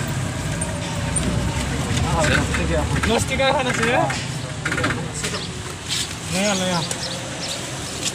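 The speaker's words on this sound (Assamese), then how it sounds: "ৰিক্সাত উঠি যাই আছোঁ ৰিক্সা" Riding a rickshaw through busy Guwahati street traffic, with a constant roadway rumble, passing engines and distant horns, while a voice talks over the noise.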